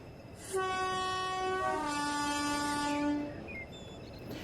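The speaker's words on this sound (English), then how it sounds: "the locomotive passes by Crete Halt on the way down to Milford" A BR blue diesel locomotive from the late 1970s era in a train simulator game passes a rural halt, sounding a long two-tone horn that drops in pitch, with rumbling engine noise underneath, no talking.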